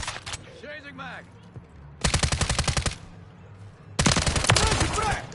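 Automatic gunfire in the video game Warzone crackles in two loud, rapid bursts, each lasting about a second, with quieter game sounds and distant shots between them.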